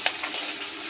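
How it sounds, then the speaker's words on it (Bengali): Hilsa fish frying in oil in a wok for a mustard hilsa dish, giving a steady, close, bright sizzle with a sharp crackle at the start and no voices. "ইলিশ মাছটা। কড়াতে দিলাম"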